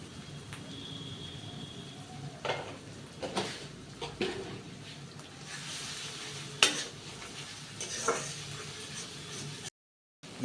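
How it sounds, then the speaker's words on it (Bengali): Fish curry with turmeric and chili powder sizzling in a pan while a spoon scrapes and stirs in irregular bursts, with occasional clinks of metal against the cookware. "মাছের ঝোল আর ভাত রান্না হচ্ছে"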